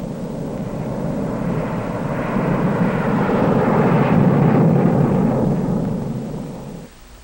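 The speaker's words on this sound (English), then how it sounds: "Specially instrumented aircraft fly the tests that verify what happens inside a weapon" A specially instrumented aircraft flying a nuclear weapon test mission roars steadily overhead, its engine drone swelling to a peak and then fading away at the end.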